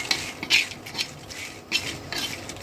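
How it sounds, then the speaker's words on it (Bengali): Dried red chillies are tossed in a pan, heard as repeated clattering scrapes and knocks of a utensil against metal at close range over a low, faint frying background, with no speech. "শুকনো মরিচ ভেজে নিচ্ছি কিছু"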